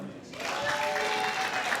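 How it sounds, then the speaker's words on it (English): Applause from an audience at a press conference rises after a quiet start and settles into a steady, moderately loud wash of clapping, with a faint tonal whine and some crowd noise mixed in. "please clap for JoeBoy"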